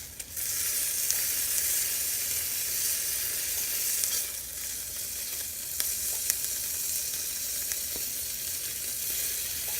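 Tuna searing in a hot pan gives a steady, close, bright sizzle and hiss that continues throughout with small crackling pops and no talk.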